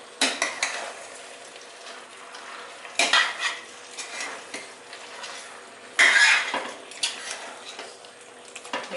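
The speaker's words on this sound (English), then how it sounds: "Make sure you stir it in." A spoon scrapes and clanks against a pot as mushrooms are stirred into efo riro, a Nigerian spinach stew, in a few separate bursts with quiet simmering between them.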